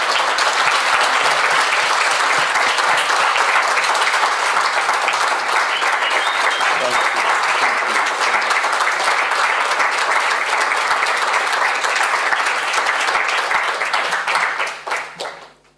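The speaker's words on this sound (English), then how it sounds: "please, a very huge round of applause for our generous and thoughtful hosts" A large audience at an international art critics' congress in Kraków applauds loudly and continuously for about fourteen seconds, a dense wash of clapping that fades out quickly at the end.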